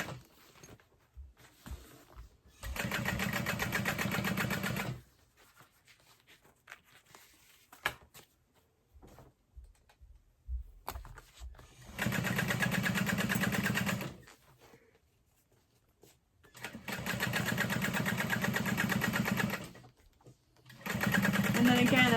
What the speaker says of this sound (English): I'm going to use a stitch length of 5.